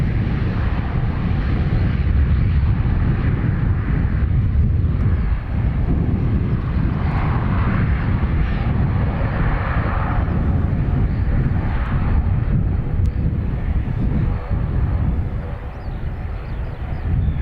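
A CASA C295 aircraft touching down at Dublin Airport with a slight bounce, a loud steady engine roar and rumble with wind buffeting that holds throughout, easing slightly at the end.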